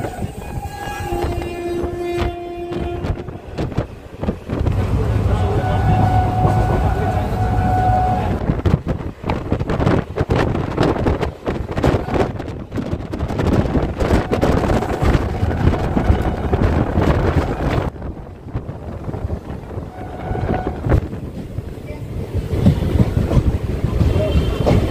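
A local train running from Azimganj towards Krishnanagar rumbles steadily along the track, a constant loud clatter and rattling from inside the carriage, with faint voices in the background.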